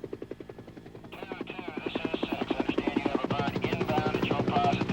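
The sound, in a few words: helicopter in film soundtrack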